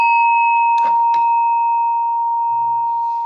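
A meditation chime is struck once and rings on with a steady, pure sustained tone that slowly decays, with a couple of soft knocks and rustles near the start.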